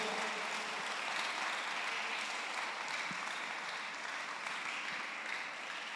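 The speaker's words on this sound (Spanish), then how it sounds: "Puede darle palmas al Rey de Reyes y Señor de los Señores." Congregation claps in worship during a Spanish-language church service, a continuous, even patter of many hands held at moderate distance for several seconds, easing slightly toward the end.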